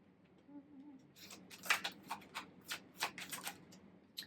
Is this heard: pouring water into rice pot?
no